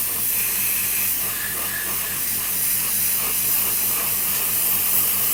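Airbrush or spray can hisses steadily while laying a second coat of paint onto a Revell Me 262 scale model, a continuous close broadband spray with no talking.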